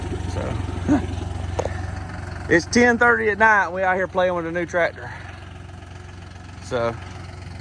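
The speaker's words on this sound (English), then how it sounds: "So it's 10:30 at night and we out here playing with a new tractor." A new cab tractor's engine idles steadily at night with a low, constant hum, while a person talks over it in short bursts.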